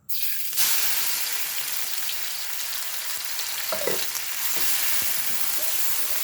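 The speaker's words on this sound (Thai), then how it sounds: "แล้วก็จะผัดเข้าให้เหลืองหอมสักหน่อยนะคะ" Loud, steady sizzling of pounded chili and garlic stir-fried in a hot pan, with a few clinks of a utensil against the pan.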